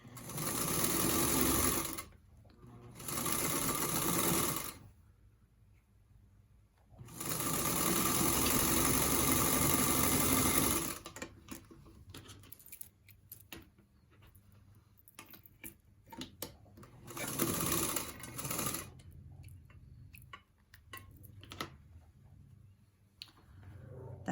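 A sewing machine runs in several bursts while stitching a spring quilt block, rapid mechanical chatter starting and stopping with quieter ticking and handling between runs.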